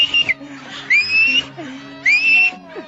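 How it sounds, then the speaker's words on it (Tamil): A pressure cooker cooking rice lets out shrill whistling bursts: a short one, then two longer rising blasts. The bursts are loud and close against a faint background. "ஒரு விசில் வந்துச்சு"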